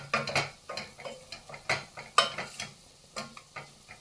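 Irregular scraping and clinking of a spoon stirring sweet and smoked paprika in a pot, with a soft sizzle underneath; close and moderately loud, no voices.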